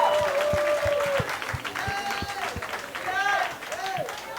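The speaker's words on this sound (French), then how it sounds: "On peut applaudir" An audience applauds at a karaoke contest semi-final, with scattered rhythmic claps under loud speaking voices and some bright vocal tones throughout.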